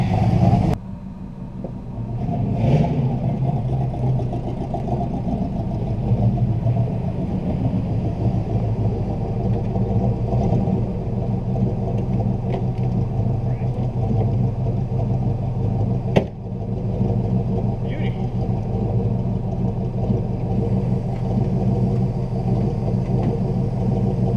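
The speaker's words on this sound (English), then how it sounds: "Listen to that thing idle, hey?" A 1968 Buick Skylark engine, abandoned for about 40 years and newly revived, idles with a steady, close, low rumble throughout, broken only by a single sharp click partway through.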